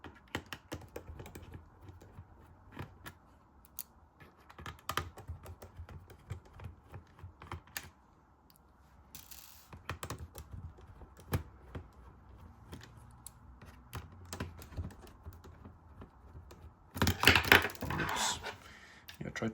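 Small screws being worked loose from the back shell of a Nintendo New 3DS XL, with a quick run of close, light clicks and ticks, then a louder burst of handling clatter near the end.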